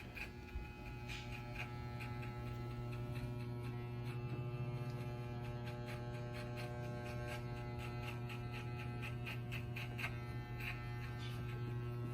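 Electric hair clippers with the lever fully open hum steadily while cutting a skin fade, a close, even mains-pitched buzz with quick snipping ticks as the blades pass through hair.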